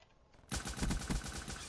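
Gunfire in Black Ops 3, a sudden burst of rapid shots kicking in after a quiet moment and continuing loud and close to the end.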